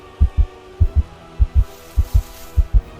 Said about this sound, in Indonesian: Dengan detak jantung yang begitu cepat dan nafas yang terengah-engah, Mawar mencari tumpukan gaun-gaun merah.